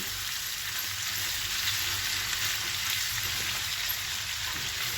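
Lamb ribs and kebab grilling over charcoal on a balcony give off a steady, soft crackling sizzle, continuous and fairly close, with no talking.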